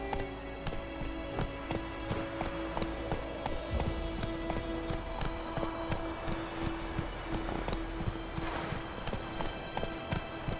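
Roach the horse galloping in The Witcher 3, rapid rhythmic hoofbeats thudding close and steady throughout over a soft game ambience.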